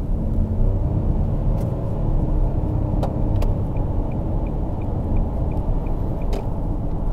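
A Nissan Kicks e-POWER accelerates onto a highway, heard from inside the cabin as a steady low road and motor rumble with a few faint ticks, no voices.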